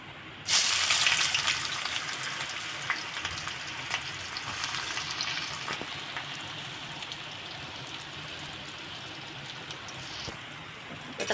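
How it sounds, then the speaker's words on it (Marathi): Onion and curry leaves frying in oil in a wok give a loud, steady sizzle from the moment they hit the pan, with faint scraping and stirring beneath it and no talking. "आता कांदा आहे गाईस ते व्यवस्थित तेलामध्ये परतून घ्यायचं आहे"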